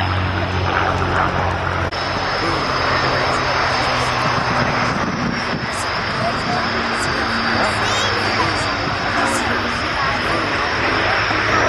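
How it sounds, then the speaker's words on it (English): A Supermarine Spitfire warbird flies past at an airshow, its engine a loud, sustained drone with a steady rumbling tone throughout and a crowd or commentary faintly mixed in. "Spitfire."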